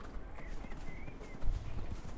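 Horse hooves in a dragon-themed video game: soft, irregular clip-clop footfalls at moderate distance, with a low thump partway through.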